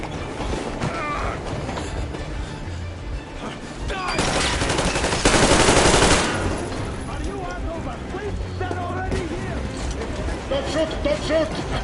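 Sustained gunfire in the shooter Metro Exodus, dense bursts of automatic fire and clattering mechanisms, swelling loudest midway, with voices shouting over the fighting throughout.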